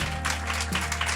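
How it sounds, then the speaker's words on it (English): Audience applause at an alt assembly, a steady wash of clapping filling the whole moment at even loudness. "we can applaud for that, I think"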